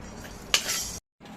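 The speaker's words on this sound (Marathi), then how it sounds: "मसाला वेलची दालचिनी हे आधी भाजून घेऊया" Whole cardamom and cinnamon dry roast in a pan, a brief rattling clink of spices and utensil against metal over a low background, cut off by a short silence.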